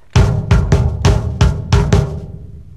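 A loud drum pattern of heavy, booming double bass drum kick strokes and snare hits in a steady, moderate groove, about seven strikes, close and dry, ringing out at the end.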